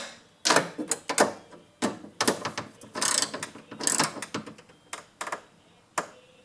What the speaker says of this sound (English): Now I can tighten the other two down, which is mighty easy.